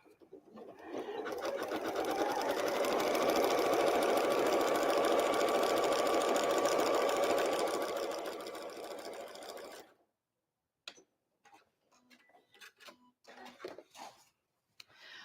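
A sewing machine stitches in one steady, fast run of about eight seconds, then stops, leaving brief faint handling clicks and knocks.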